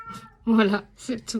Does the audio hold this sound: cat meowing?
yes